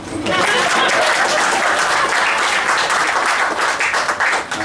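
Audience applause breaking out at a talk about cassava-based chocolate and banana muffins, a dense sustained clapping that swells quickly and holds loud and steady for several seconds.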